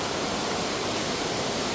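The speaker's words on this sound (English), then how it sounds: "Wanted to give you guys a shot of this waterfall here. It's a man-made waterfall," Steady, dense rush of a man-made waterfall, close and constant with no breaks, its broadband hiss filling the scene alone without voices.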